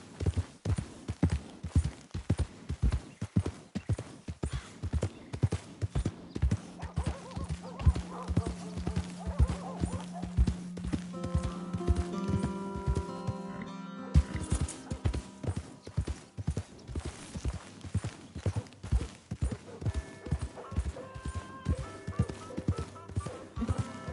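Steady clip-clop of hooves trotting along in the video game Red Dead Redemption 2, with a horse neighing partway through over a background of music-like tones.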